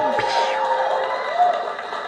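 A studio audience at a Movie Trivia Schmoedown event cheers and shouts in a steady, lively roar, with a voice speaking over the crowd noise.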